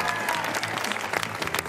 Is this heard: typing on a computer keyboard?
no